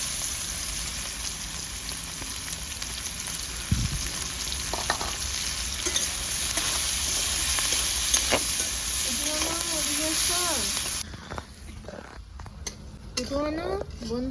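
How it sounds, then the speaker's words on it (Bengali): Chopped onions fry with whole garam masala in a pan for methi chicken: a loud, steady sizzle with spoon scrapes and clinks. The hiss drops away near the end, and a few high voice-like tones sound over it. "ভালো করে ভেজে নেবো। দিয়ে দেবো কেটে রাখা পেঁয়াজ।"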